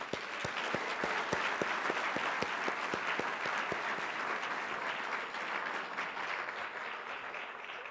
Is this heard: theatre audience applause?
yes